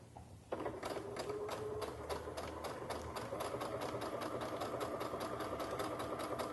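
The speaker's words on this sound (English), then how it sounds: "we're going to sew 1/4 inch away from the edge of the fabric" A sewing machine stitches fabric for a French seam a quarter inch from the edge at a 2 mm stitch length, a close rapid mechanical chatter that kicks in abruptly and runs evenly to the end.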